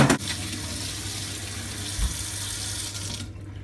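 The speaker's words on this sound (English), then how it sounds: "just give this little metal thing a wash under hot water" Hot water runs from a tap over the small metal part of a Tefal Pro Express Total Expert steam generator iron, a steady close splashing rush that stops abruptly near the end.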